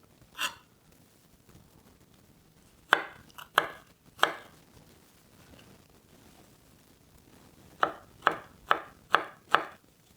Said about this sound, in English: then we're gonna cut our garlic